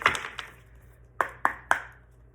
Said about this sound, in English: and I'm going to shuffle again.